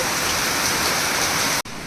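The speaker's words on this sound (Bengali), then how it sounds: "যে বৃষ্টি হইতেছে" Heavy stormy rain pouring down, a dense loud continuous roar of falling water that briefly cuts out near the end before resuming.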